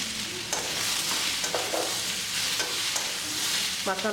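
Potatoes frying in a pan with sautéed onions for a potato pepper fry, a steady close sizzle with intermittent scrapes and clinks of stirring throughout.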